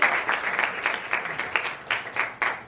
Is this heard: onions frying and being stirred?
no